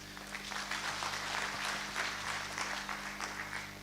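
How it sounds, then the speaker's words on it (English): A room of roundtable participants at a SACCO meeting claps in a steady, fairly loud round of applause that carries on evenly for several seconds. "I think it deserves a serious round of applause"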